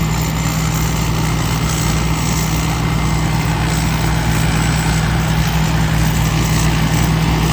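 A 12 HP walking tractor with a KO84 engine ploughs a rice field, its motor droning loud and steady at close range with a constant low rumble and no talk over it.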